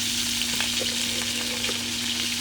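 Garlic and chicken drumsticks frying in oil for a Spanish paella, a dense, continuous sizzle close by with small crackles and a low steady hum underneath.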